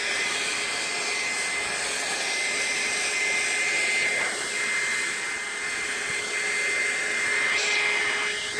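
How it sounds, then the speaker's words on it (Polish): A hair dryer blows in a cold garage with a loud, steady whooshing roar and high whine, held continuously for several seconds with slight shifts in pitch as it is moved. "Odpalę suszarkę do włosów."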